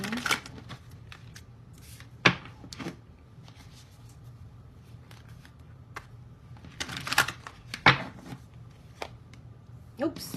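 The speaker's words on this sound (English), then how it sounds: "I'm going to keep shuffling here." Tarot cards shuffled by hand in uneven bursts of riffling and sliding, near and clear, with soft pauses between handfuls.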